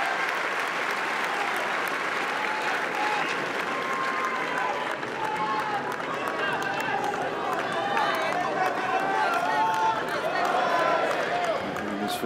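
At Roland-Garros during a 2019 men's fourth-round tie break between Wawrinka and Tsitsipas, a large tennis crowd keeps up steady, dense applause and cheering throughout.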